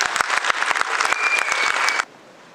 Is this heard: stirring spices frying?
no